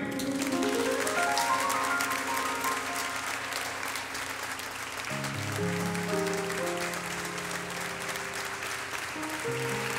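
A crowd at a live Christian music concert claps steadily throughout, welcoming a guest, while sustained instrumental tones ring beneath the applause.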